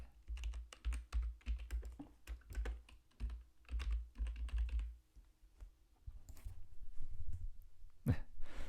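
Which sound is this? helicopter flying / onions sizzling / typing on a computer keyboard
typing on a computer keyboard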